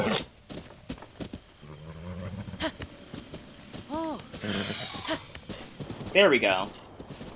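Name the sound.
horse neighing and hooves, from video game Zelda: Breath of the Wild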